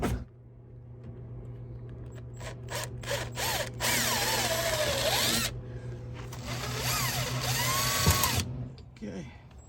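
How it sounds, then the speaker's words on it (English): A power drill bores holes into an RV, its motor whining and rising and falling in pitch through several close, loud bursts with short gaps between them. "he's just drilling holes all over the place"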